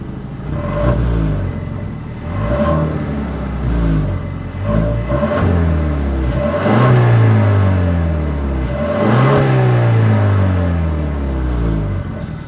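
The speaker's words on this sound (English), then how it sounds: "As always, here is that exhaust clip." A 2022 Genesis G80 revs repeatedly, its exhaust rising and falling in loud, close, sweeping pulls over a deep rumbling idle.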